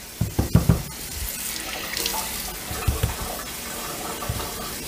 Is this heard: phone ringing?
no